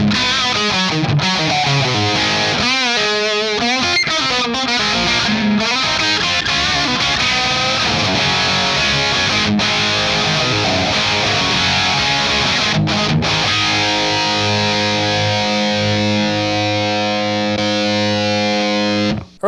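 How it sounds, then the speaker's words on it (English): Hybrid guitar played through an amp with reverb switched off, a loud distorted tone with strummed chords and picked riffs, ending on sustained ringing chords before cutting off. "I will go ahead and turn reverb off so we will hear just the amp."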